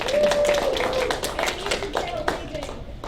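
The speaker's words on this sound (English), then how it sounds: "Give them a round of applause." Audience applause at a comic con panel in Melbourne, a moderate spread of hand claps with voices and a tonal sound running through it.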